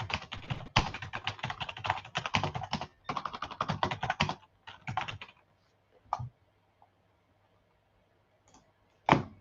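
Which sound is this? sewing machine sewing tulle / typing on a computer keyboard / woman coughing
typing on a computer keyboard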